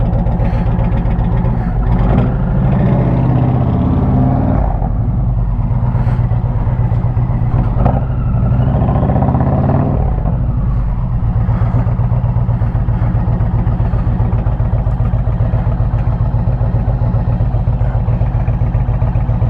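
Indian Challenger motorcycle with a TAB Performance cat-delete straight pipe and zombie baffles, revving hard in loud close bursts that crackle and pop, then dropping back to a steady rumbling idle.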